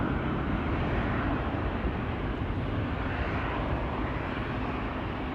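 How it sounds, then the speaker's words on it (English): An Air France Embraer jet taking off from Amsterdam Schiphol on a KLM flight, a broad, steady engine roar that holds throughout and slowly fades a little toward the end, with no voices. "So this is an Air France Embraer, but it is flying on behalf of KLM."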